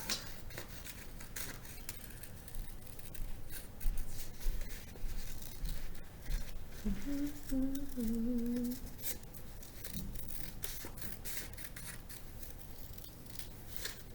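Scissors snip through paper for a bee-themed craft, a soft steady series of cuts close by, with a faint brief tonal sound in the middle.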